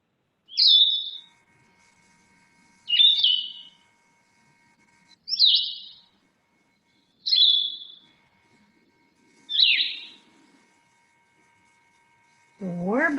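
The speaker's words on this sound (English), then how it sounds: "And the blue-headed vireo, they like deep woods. Their song is slower and usually 2-parted rather than 3." Blue-headed vireo song of deep woods: slow, short two-parted phrases, five clear separate bursts spaced about two seconds apart, fairly near, with a low voice entering at the very end.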